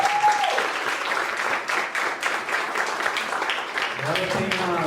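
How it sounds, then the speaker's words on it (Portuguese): An audience at a certificate ceremony for a marriage course claps steadily together, with a voice speaking over the applause at the start and end. "Uma salva de palmas para o Senhor."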